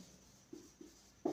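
A pen or marker writing on paper or a board during a physics lesson, a few faint scratchy strokes followed by a louder, firmer stroke, with no speech.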